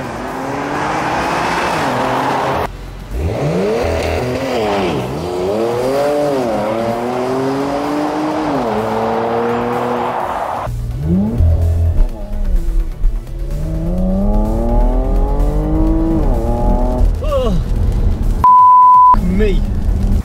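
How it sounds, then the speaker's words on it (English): A Porsche Macan Turbo engine revs hard and launches using launch control, roaring up through the gears with rising pitch and gear-change dips, loud and close throughout. "Let's take a look at what launch control can do."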